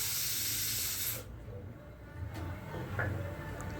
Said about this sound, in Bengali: সিটি দিয়ে নিয়েছি, প্রায় 2টো হয়ে গেছে, আরও একটা দিয়ে নিলাম